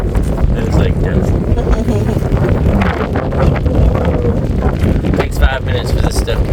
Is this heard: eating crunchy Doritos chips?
no